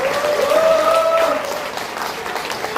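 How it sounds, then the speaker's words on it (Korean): Audience at a committee debate on elder abuse regulations for long-term care facilities gives a short, steady round of applause that fades slightly toward the end. "큰 박수 한번 더 부탁드립니다"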